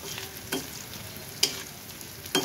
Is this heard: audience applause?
no